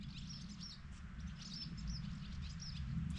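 Swallows chirp at a farm at sunrise, faint repeated high twitters scattered over a low outdoor rumble, distant and without voices.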